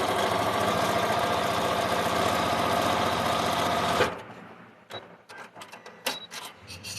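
Steady, loud mechanical whirr of a sewing machine stitching a quilt block runs for about four seconds, then stops and gives way to soft handling clicks and fabric rustles.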